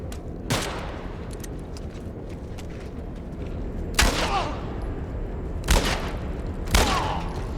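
Gunshots in The Last of Us Part 1 ring out as four loud, separate blasts, each trailing into a brief echo, spaced unevenly over a steady background of game ambience.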